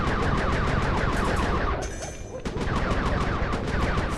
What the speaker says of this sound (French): Fais attention avec ces feux d'artifice, Panda King.